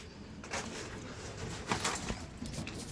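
Pigeons kept in a newly built home coop make soft cooing calls, with brief bursts of fluttering and shuffling, fairly quiet and close, with no one speaking.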